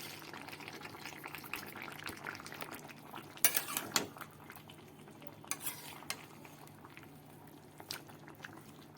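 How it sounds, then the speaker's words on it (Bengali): A spoon stirring pumpkin and hilsa fish head curry in a pot, with soft scraping and clinks of metal against the pan under a quiet simmer and a few sharper knocks. "আর এটা একটু ঘেটে দেব যাতে তরকারিটা ভালোভাবে মিশে।"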